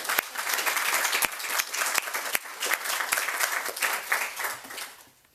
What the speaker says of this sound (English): Let's give an applause to the speakers.